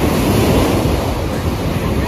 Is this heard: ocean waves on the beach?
yes